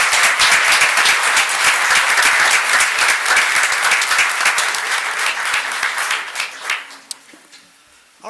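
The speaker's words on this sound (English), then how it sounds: "Let's give them another big round of applause." An audience at a city council meeting claps in a sustained, dense round of applause that stays loud for several seconds, then thins out and fades to a few last claps.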